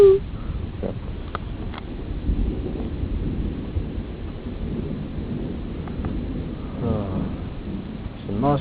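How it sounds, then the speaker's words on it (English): A summer thunderstorm rolls through at night near a campsite tent: deep thunder rumbles build and fade over steady, close rainfall, with occasional gusts buffeting the microphone. "It's a nice little storm rolling through."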